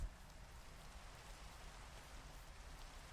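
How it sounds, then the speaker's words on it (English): Steady rain falls in the Minecraft video game, a soft, even hiss of drops that holds at a constant low level throughout with no other sounds on top. "The rain's quite nice."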